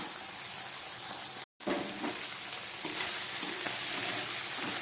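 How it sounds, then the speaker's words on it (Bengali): Loud, continuous sizzling of snails frying in hot oil, with a brief cut in the middle and occasional stirring scrapes. "গুগলিটা আমার ভাজা হয়ে গেছে বা তুলে ফেলছি"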